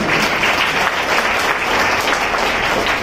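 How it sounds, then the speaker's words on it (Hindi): Children at a Jain school in Jashpur Nagar clap together, producing a steady, dense, evenly sustained round of applause that fills the room at close range. "इसलिए एक बार और ताली बजाएं।"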